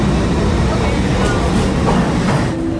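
Busy train station at peak hour, with a steady loud rumble of trains and rail cars and a dense crowd murmur, talk mixed in throughout.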